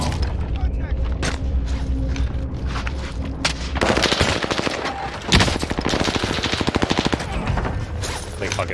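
Video game gunfire erupts: scattered sharp shots give way to dense rapid bursts of automatic fire and mechanical clatter, loud and close, with a player's voice talking over the action.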